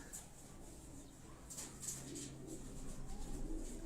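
Pigeons coo at a fancier's loft, soft low repeated calls close by amid faint fluttering and shuffling, with a quiet background hum.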